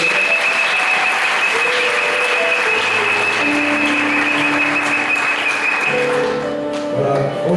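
A church congregation applauds loudly and continuously at a worship service, a dense, sustained wash of clapping with sustained tones and voices underneath, tapering slightly near the end.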